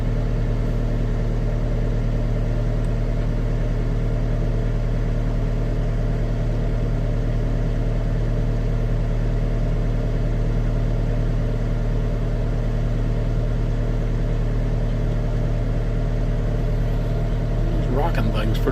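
A skid steer's engine running steadily nearby, a loud constant low drone with a deep rumble that holds unchanged throughout, while a person talks over it.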